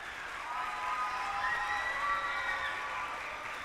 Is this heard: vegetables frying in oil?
no